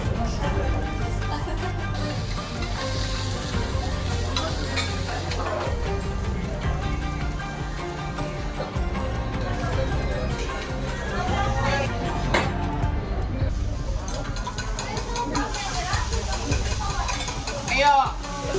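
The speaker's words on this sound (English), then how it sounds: "It means they use this huge flat griddle for preparing all the food." Okonomiyaki sizzles steadily on a large flat teppanyaki griddle in a traditional Osaka restaurant, with spatula scrapes and clinks mixed into the constant frying hiss while voices talk throughout.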